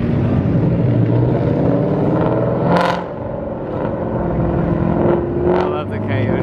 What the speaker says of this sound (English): I love the coyote motor.